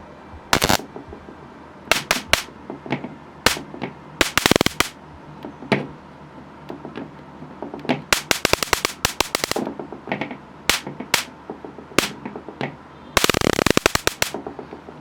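A homemade LED stun gun arcs against metal in sharp, crackling snaps and short buzzing bursts, loud and close, firing at irregular intervals with a longer sustained zap near the end.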